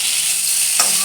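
Taro (kochu) and spices sizzle in a hot pan for a Bengali curry, a steady bright frying hiss with a single scrape of stirring near the end and no voices.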